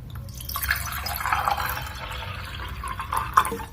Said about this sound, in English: what happens when we fill this glass with some water